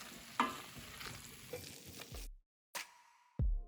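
Aloo kurma mixture of potatoes and ground roasted spices sizzles and is stirred in a hot pan, with brief scraping bursts and sizzle that cut out abruptly between a few short clattering stirs.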